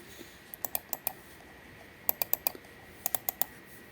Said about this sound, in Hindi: ये इसका क्लिक का साउंड मैं बताती, ये सुनो